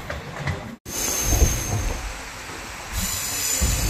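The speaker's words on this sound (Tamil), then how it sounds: "ஒரு கம்ப்ளீட் டேர்ன் ட்ரெயின் அப்படியே வந்து கேர்வாக வர மாதிரியே இருக்குது." Kollam to Chennai Egmore Express train rounding a sharp curve on a hill route, a steady loud rumble of wheels and carriages with a thin high squeal running throughout.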